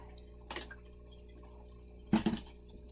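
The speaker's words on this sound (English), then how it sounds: "Pouring the last drops out" Last drops of water pour from a gold sluice in two short splashing bursts, about a second and a half apart, close by against a quiet background.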